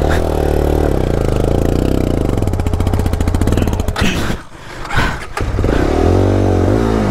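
A Yezdi motorcycle engine revs loud and close while off-roading, a rough continuous roar that rises and stutters, briefly drops out midway with clattering, then surges again.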